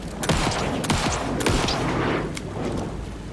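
Several sharp gunshots in Alan Wake 2 crack out in quick succession, with irregular spacing and short reverberant tails.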